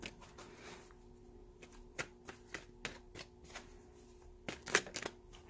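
Tarot cards being shuffled and drawn by hand, giving soft riffles and sharp snapping taps at uneven intervals, close and fairly quiet, with a busier cluster near the end.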